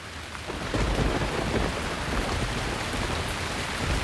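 Heavy rain pouring steadily on surfaces with deep rumbling thunder rolling underneath, a loud, dense, continuous downpour with no talking.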